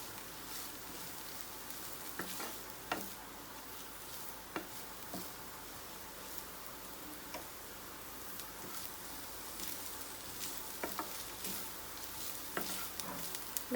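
Sweet corn and mixed vegetables sautéed in a pan for veg cutlets give a soft, steady sizzle. Scattered light taps and scrapes of tossing run through it, fairly quiet and close, with no talking.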